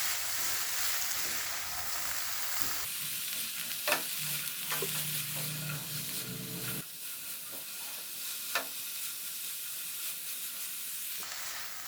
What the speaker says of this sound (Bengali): সমস্ত উপকরণগুলো গ্যাসটাকে হাই ফ্লেমে রেখে 3 থেকে 4 মিনিট নাড়াচাড়া